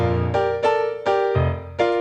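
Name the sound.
piano playing a measure of a song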